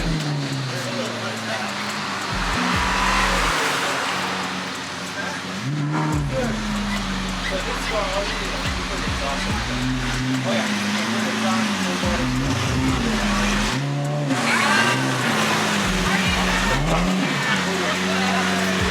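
Car engines of a Lamborghini Aventador and a Camaro SS rumble and rev repeatedly, rising and falling in pitch, close by, with people talking over the noise.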